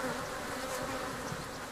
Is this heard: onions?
no